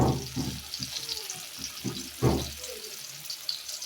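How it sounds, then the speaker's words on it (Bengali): Banana pieces fry in a pan with turmeric and chili, a soft bubbling sizzle under intermittent clattering and stirring thumps, close by with no clear talk. "তো আমি এখানে 2 পিস কলা ভাজতেছি"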